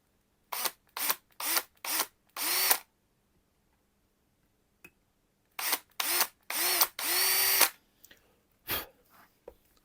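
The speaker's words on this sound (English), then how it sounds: "And now you can use your power drill." A power drill fitted with a 2 mm bit bores small holes in several short, close whirring bursts, then falls quiet before another run of longer bursts and a few brief final ones.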